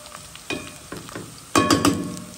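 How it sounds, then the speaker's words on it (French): Chopped onion fries in a pan for a Réunion-style bichique curry, a soft steady sizzle broken by a few louder bursts of crackling as it is stirred. "mon oignon commence bien caramélisé"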